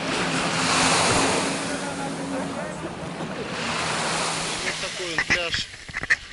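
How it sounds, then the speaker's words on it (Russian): Waves wash continuously onto Monkey Beach in Thailand, with heavy wind buffeting the microphone and surf rolling in close by, and brief voices can be heard near the end. "Вот такой пляж."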